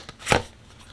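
Tarot cards shuffled once in a quick riffle, a short crisp burst of papery flutter after a faint tap, close and alone in a quiet room.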